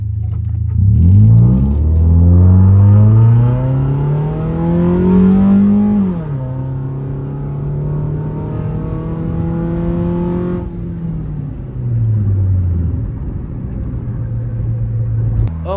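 Remapped Toyota Vios accelerating hard at full throttle, its engine note rising loudly through the revs, easing off briefly, then climbing again in a sustained close-up roar from inside the car.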